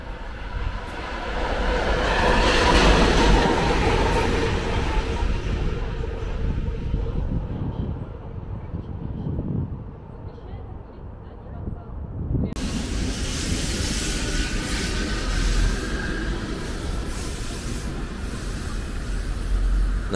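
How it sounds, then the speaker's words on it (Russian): Heavy low rumble of a shunting locomotive passing at Petrovsko-Razumovskaya railway station in Moscow, loud and sustained with rolling rail noise, a brief dip midway, then continuing. "Еще один маневровый попался на Петровско-Разумовской."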